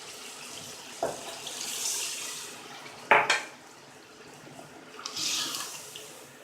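Water is poured into a pot of egg and potato curry in a home kitchen, coming as a few short splashing pours with a sharp metallic clink, fairly close and quiet, with no talk.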